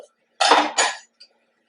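A knife cutting up butter for baking: two close, sharp scraping bursts of blade against dish or board, followed by a faint tap, with no talking.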